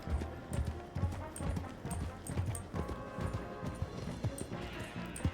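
Mule hooves clip-clop steadily in the RedM video game, a soft, even rhythm of hoofbeats on the ground, fairly faint and with no talking.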